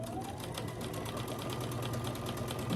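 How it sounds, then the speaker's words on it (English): A sewing machine runs steadily, stitching scrappy star quilt units with quarter-inch seams, its fast even needle rhythm continuous and close throughout, with no talking. "Then I'm going to stitch this."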